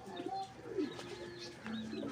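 Soft racing pigeon coos repeat over a low outdoor hum, with faint chirps of other birds nearby; no talking.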